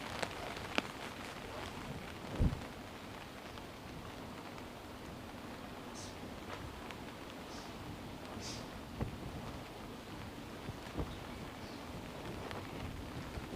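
Steady rain falling on a tent in Baltimore, a continuous close hiss with scattered heavier drops and a few sharp taps, no voices.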